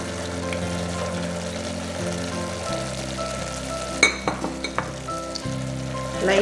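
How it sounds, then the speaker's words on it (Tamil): Potato, beans and other vegetables for kurma are stirred in a hot pan, a gentle sizzle under a steady low hum, broken midway by a run of quick metallic scrapes and clinks from a spoon. "லைட்டாக மிக்ஸ் பண்ணிக்கோங்க."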